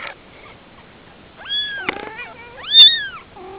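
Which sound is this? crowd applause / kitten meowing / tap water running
kitten meowing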